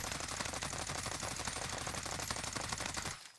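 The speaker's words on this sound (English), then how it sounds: "for this gun, for instance, the XM4, I'm not going to move my mouse at all. We're just going to shoot." XM4 rifle firing full-auto in the Warzone video game, a fast, dense, steady stream of shots at close range for about three seconds before stopping abruptly.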